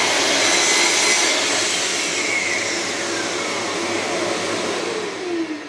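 A Festool dust extractor paired with a TS55 track saw runs as a loud, continuous airy roar with a faint descending whine, steady throughout and alone without talk.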